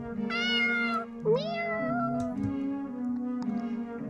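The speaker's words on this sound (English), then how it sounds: "This cat is trying to tell me something." A cat in the video game Tales of the Black Forest meows in two long, rising, plaintive calls close up, followed by lower drawn-out tonal mews and a soft background tone, with no talking.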